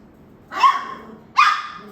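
Puppies from a litter give two close, high-pitched yapping barks a little under a second apart, clear over a quiet indoor background.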